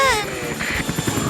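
A helicopter arrives with a steady, rhythmic rotor thumping that pulses throughout, fairly loud, right after a short voice.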